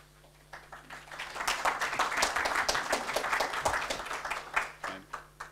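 Audience applause at a peacebuilding talk rises from light scattered claps into dense, sustained clapping, then thins out into a few final claps, heard from within a moderately sized room.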